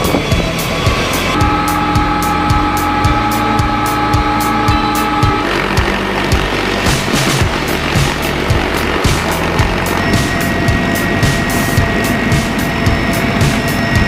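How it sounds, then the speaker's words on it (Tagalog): US military helicopter flying at a military exercise, loud rhythmic rotor chop with a steady engine whine, close and continuous. "Ayan may helicopter ng US. Napakalakas talaga niyan."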